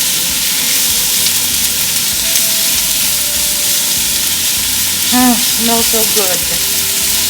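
Strips of ribeye beef fry in a pan over high heat, a loud continuous sizzle and hiss up close, with a voice speaking briefly toward the end.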